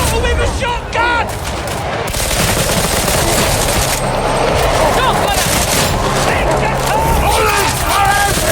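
Rapid gunfire in a Warhammer 40,000: Darktide battle, dense bursts of automatic shots and booms overlapping continuously and loudly, with shouted voices mixed into the chaos.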